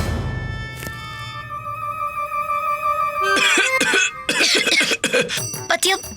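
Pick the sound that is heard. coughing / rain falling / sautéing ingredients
coughing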